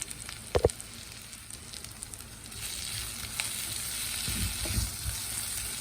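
Mutton liver fry sizzling in a pan on the stove, with a steady soft crackle and hiss throughout and a few sharper clinks of a spoon stirring near the start.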